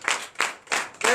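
Congregation clapping at a Friday night deliverance and prophecy church service in Benin, heard as four loud, evenly spaced bursts of hand claps close by.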